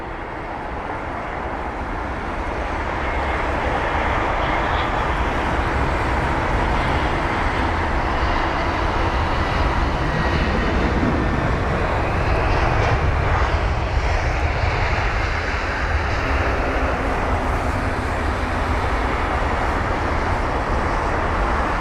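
Airliner jet engines at London Heathrow, a broad continuous roar that swells in the first few seconds and then holds steady and loud throughout.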